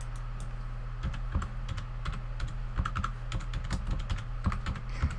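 Someone types steadily on a computer keyboard, a close, continuous patter of quick key clicks over a low electrical hum.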